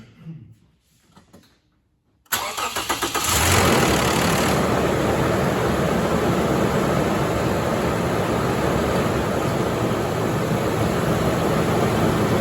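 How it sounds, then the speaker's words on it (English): A cold V6 car engine is cranked after a quiet moment, then catches and settles into a loud, steady idle that runs on evenly with a broad, rushing roar. "Let me go hit the engine and start it up."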